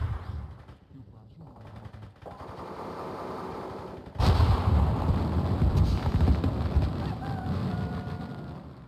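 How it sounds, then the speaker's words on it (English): Gunfire and grenade blasts from an ambush in the Graviteam Mius Front war game. The sound starts as a low rumble, then dense, loud bursts of shots and explosions fill the second half. "they've just got ambushed by enemy troops and just getting grenaded all over, all around"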